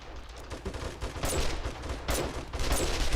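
Automatic turrets in 7 Days to Die fire repeated bursts of rapid shots, rising and falling in intensity across a few seconds, with louder clusters standing out over a steady rattle.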